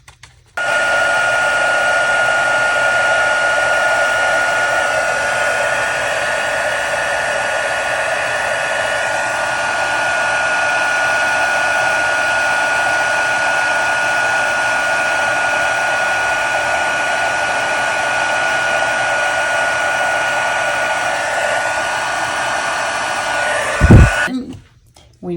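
A heat gun runs steadily for about 24 seconds, melting embossing powder on a stamped card; the loud, even whirring hiss of its blower holds constant, then cuts off with a brief thump near the end.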